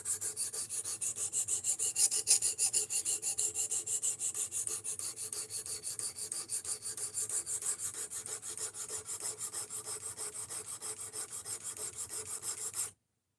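A knife blade scrapes across a sharpening stone in fast, steady strokes, a dry, raspy rubbing repeated dozens of times up close before it stops abruptly.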